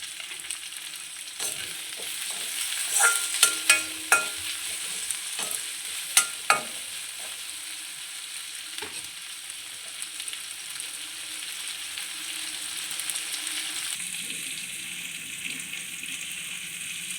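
Onions sauté with salt in a pan, giving a continuous moderate sizzle with bursts of spoon taps and stirring clicks early on, then a gentler steady hiss.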